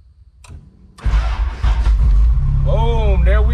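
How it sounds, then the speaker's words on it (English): An Acura Integra engine fired by a push button, a short click and cranking bursting into a loud steady idle that continues to the end, with a faint whirring tone near the close. "Now you will see me start this thing up using the push button."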